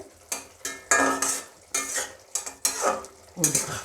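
Drumstick flowers and potato are stirred in a pan, a spoon scraping and clinking in repeated strokes about every half second, close and fairly loud, with a faint sizzle beneath.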